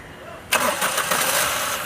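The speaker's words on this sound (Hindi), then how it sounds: "गाड़ी स्टार्ट कर।" A Suzuki car engine with a cylinder misfire from a faulty number 3 coil cranks and catches abruptly, then settles into a loud, close, rough-edged running hum.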